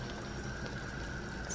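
A pot of water is coming to a boil for Vietnamese pho, giving off a continuous low bubbling rush and soft burbling that holds steady throughout.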